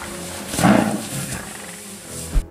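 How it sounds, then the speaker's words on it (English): Three lionesses attacking a cape buffalo in the wild give a loud, close roar that swells and fades, followed by a short thump near the end. "three lionesses bringing down a large buffalo"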